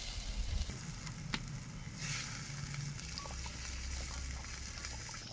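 Fish pieces frying in a bubbling spice masala in a village kitchen, a continuous close sizzle and crackle with a sharp clatter near the start and low rumbling underneath.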